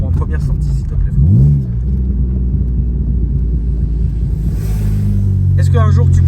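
A BMW E36 engine revving as the car pulls away, a loud steady low rumble close by with a rising rev near the start, heard from inside the car.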